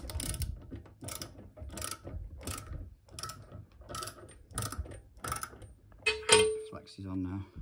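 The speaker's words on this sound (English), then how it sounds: "I'll give it a nip up with the ratchet and socket set." A ratchet and socket set tightens an iron-to-copper plumbing fitting in quick, evenly spaced bursts of clicking, close and fairly loud, followed by a brief metallic clink and a short tonal squeak at the end.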